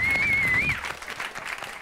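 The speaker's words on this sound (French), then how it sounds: "on peut applaudir Fabien Boucher" A comedy club audience applauds a comedian. A shrill whistle rings out over the first moment, then a soft, diffuse patter of clapping continues briefly.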